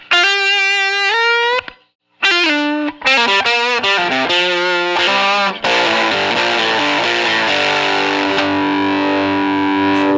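Loud electric guitar through a fuzz pedal with a raspy buzzsaw tone, starting with sustained notes and bends, then settling into dense, churning riffing.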